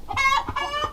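Backyard chickens cluck in two or three quick, throaty bursts close by, with a steady low rustle beneath them.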